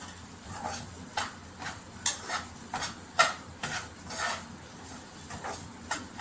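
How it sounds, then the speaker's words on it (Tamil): Semolina roasting in a pan for rava laddu, stirred with repeated scraping strokes of a spoon against the metal over a soft sizzle, close up, with no talking. "பார்த்திங்கன்னா வறுக்கிறது தெரியும்"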